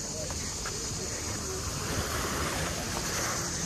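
Sea surf rolling onto a beach at Koktebel in Crimea, a steady broadband wash with wind buffeting the microphone, moderately loud and continuous throughout.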